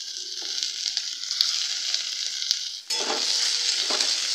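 Unpeeled apples frying in ghee with bay leaves, a continuous close sizzle that briefly dips and then comes back stronger and brighter, with light stirring clicks and no talking.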